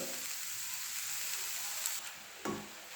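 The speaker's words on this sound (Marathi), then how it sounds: "त्याला व्यवस्थित हलवून घ्यायचे आणि ही जी साखर आहे ती मेल्ट होऊ द्यायची" Sweet coconut rice being stirred in a hot pan while sugar melts into it, giving a steady close sizzle with a brief scrape or clatter near the end.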